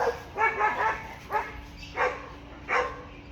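A dog indoors barks five times in separate bursts, loud and fairly close, with a faint steady hum underneath.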